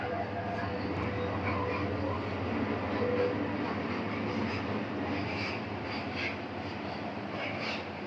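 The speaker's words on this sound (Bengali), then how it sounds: "ট্রেন যাচ্ছে, একটু অপেক্ষা করি।" A train rumbles past steadily with a broad, continuous roar and faint rattling, growing slightly louder midway.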